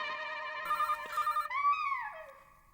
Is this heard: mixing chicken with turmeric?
no